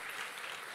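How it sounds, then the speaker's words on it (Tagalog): A church congregation applauding, a steady dense wash of many hands clapping at once, fairly faint and brief, heard from within the hall. "Palakpak sa Panginoon."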